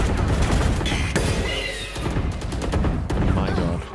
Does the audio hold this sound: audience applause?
no